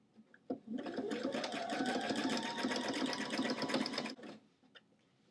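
A sewing machine stitches lace onto a t-shirt sleeve in one steady, rapid run of needle clatter lasting about three seconds, close and clear, with quiet handling sounds before and after.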